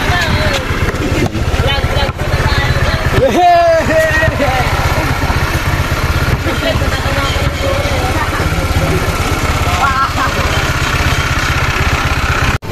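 An old junk-shop motorcycle engine putters steadily at idle throughout, a dense low rumble with brief clatters and a short whine midway, with faint voices beneath.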